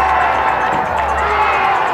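Large crowd at a high school football game in Castle Rock, a steady loud murmur of many voices with cheering throughout.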